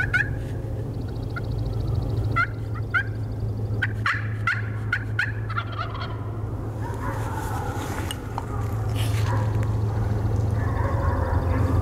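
Several wild turkeys gobble in loud bursts, some near and some farther off, over a low steady hum of outdoor ambience.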